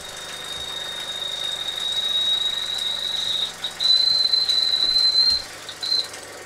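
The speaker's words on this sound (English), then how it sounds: "The whistle works as long as you don't open it too far." A thin, high steady whistle from an Ernst Plank Hercules steam engine sounds over a low rumbling engine, cutting out briefly a few times before resuming, fairly close; the loose whistle handle vibrates open.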